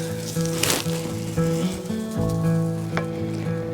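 Food sizzling in a pan with a reduced whiskey cream sauce, a steady close bubbling sizzle with a few sharp crackles, under a low tonal hum.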